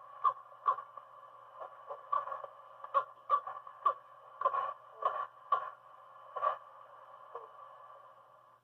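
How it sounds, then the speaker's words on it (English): An American black bear sow and her cub trade short, pulsing grunts and murmuring calls in quick irregular succession, heard close from a car about ten feet away, with no talk. "Here's the sound of a sow and a cub conversing."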